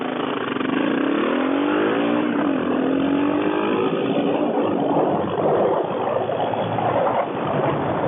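A Kawasaki KLR650 motorcycle accelerates hard from 0 to 100, its single-cylinder engine note climbing through the gears under heavy, continuous wind rush.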